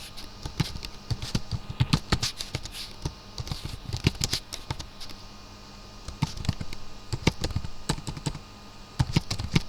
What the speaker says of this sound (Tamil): இந்த மாதிரி ஒவ்வொன்றையும் டைப் பண்ணிக்கிறீங்க.